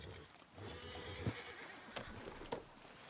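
Horse in Red Dead Redemption 2 whinnying and snorting with clip-clop hoofbeats, a few distinct loud bursts standing out over low game ambience.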